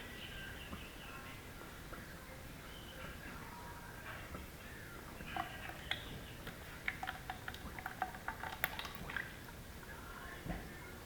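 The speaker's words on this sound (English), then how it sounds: "let all this oil slowly drain out here" Oil drips and trickles slowly out of a cast iron Cub Cadet axle housing, the faint irregular ticks and patters growing a little busier near the end, quiet and close in a still workshop.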